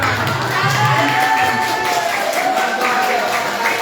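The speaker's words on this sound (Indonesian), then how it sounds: "tepuk tangan" A crowd at an alumni reunion gathering breaks into sustained applause and cheering, a dense, steady wash of clapping with voices mixed in.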